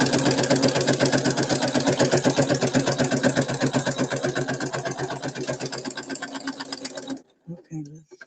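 A sewing machine stitching fabric runs in a fast, even, close-up chatter of needle strokes for about seven seconds, then stops, followed by a couple of brief soft knocks.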